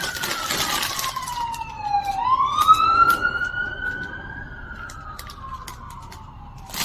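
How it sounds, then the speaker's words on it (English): A police siren wails, its pitch sliding down and then rising and falling in a slow sweep, fairly loud and close. "Sorry about the sirens, I can't do anything about it."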